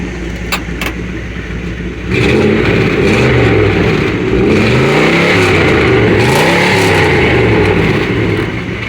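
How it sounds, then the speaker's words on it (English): A 1982 Dodge D150 pickup with a mildly built 318 V8, four-barrel carb, Erson cam and dual exhaust revs hard, a loud, close, rumbling engine note that swells and falls in repeated throttle blips after a quieter idle. "But yeah, it sounds really good under load, going down the road stuff, high speeds."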